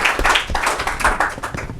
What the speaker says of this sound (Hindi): एक जोरदार से ताली